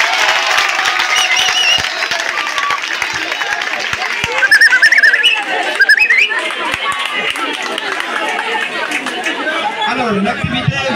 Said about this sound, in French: je vous demande encore d'applaudir très fortement pour votre aide.